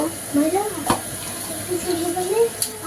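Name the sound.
fritters (bora) frying in oil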